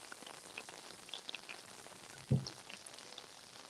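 Rain falls outdoors at Epcot onto an earbud microphone, making a faint, crackly patter with one sharper thump partway through.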